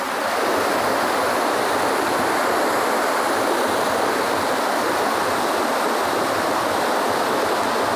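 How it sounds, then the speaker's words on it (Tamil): Mountain floodwater roars through a Western Ghats forest in a dense, continuous, loud rushing wash with no voices or breaks. "காடுகளுக்கு நடுவே ஆர்ப்பரித்து ஓடும் தண்ணீர்"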